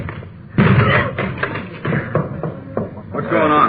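Police officers forcing a locked door in a radio drama, a series of heavy thuds and bangs against the door in quick succession, close and loud, mixed with shouting voices.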